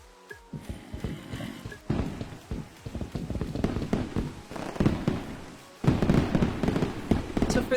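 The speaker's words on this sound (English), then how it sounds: "Let's throw out some fireworks for that" Fireworks in Minecraft, a run of crackling bursts and pops that builds from sparse near bangs into a dense, loud crackle like hard rain, alone without talk.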